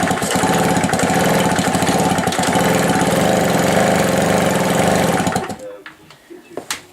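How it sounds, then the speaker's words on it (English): Honda PA50 Camino moped engine turning over and idling, a steady loud buzzing putter with rapid even pulses that runs for about five seconds, then cuts out, leaving faint knocks and clicks. "you can hear the engine turn over now"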